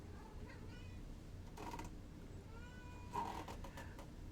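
A cat meows several times, short close cries spread over a few seconds against low background noise, with no talk over them.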